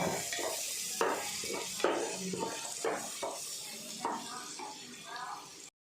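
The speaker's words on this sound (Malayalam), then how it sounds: "ഈ നെയ്യിലേക്ക് നമ്മൾ ഇഞ്ചിയും പച്ചമുളകും ചതച്ച് വെച്ചത് നമുക്ക് ഇട്ട് കൊടുക്കാം" Crushed ginger and green chilli sizzle in hot ghee while a utensil stirs and scrapes the pan, a soft hiss under intermittent clinks. A person talks over most of it.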